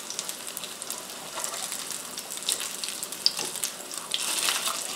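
Butternut squash fritters fry in a pan, giving a steady close hiss with scattered crackling pops and spits that build slightly toward the end.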